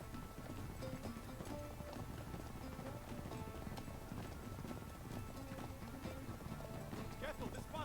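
Horse hooves clip-clop at a steady trot in Uncharted 3: Drake's Deception amid a dense, busy game soundscape, with background noise and voices mixed in.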